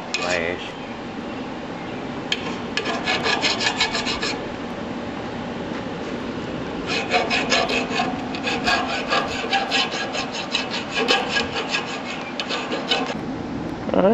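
A hand file rasps burrs off a metal garden tiller part, its close strokes coming in quick rhythmic bursts that pause and resume, over a low steady background.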